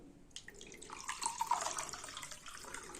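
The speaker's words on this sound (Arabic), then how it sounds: "بنفس المج ده بقى احط كوباية ونص مية" Water poured from a mug into a cooking pan while making egg-free fried dough sweets, a steady splashing pour that swells midway and runs on for a few seconds, close and fairly quiet with no talk.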